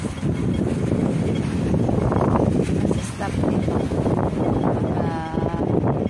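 Gusty wind buffets the microphone in a steady low roar outdoors, with people talking over it throughout.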